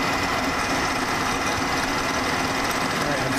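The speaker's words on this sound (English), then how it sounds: "Alright, I'm center drilling it" Steady high-pitched whine of a milling machine center drilling metal, with a continuous grinding buzz, loud and close, holding constant throughout without pauses.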